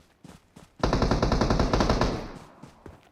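Loud, sustained automatic gunfire in the mobile battle-royale game PUBG Mobile, with several enemies firing at once; a rapid burst of shots kicks in after a few faint pops and runs for about two seconds before tapering off.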